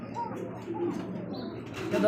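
Pigeons at a pigeon farm give soft, low, rolling coos close by over a faint background, with a slightly louder coo toward the end.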